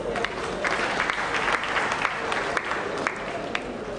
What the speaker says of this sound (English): the organizers deserve a round of applause